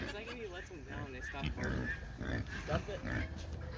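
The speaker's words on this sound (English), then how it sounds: "Now we got the male and the female smaller pigs." Pigs on a farm, a young male and female no longer piglets, grunt and snuffle close by in short bursts, with people talking over much of it.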